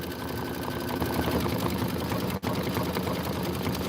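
A 10-needle embroidery machine running steadily, a dense mechanical whir with rapid needle chatter, continuous and fairly close, with one brief dropout.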